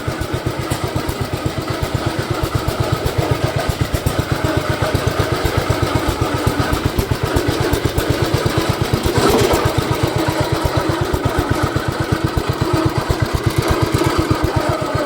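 A 1972 Gravely Commercial 12 tractor from a barn, after sitting for years, runs with a loud, close, rapid chugging single-cylinder putter that pulses evenly and continuously with no pauses.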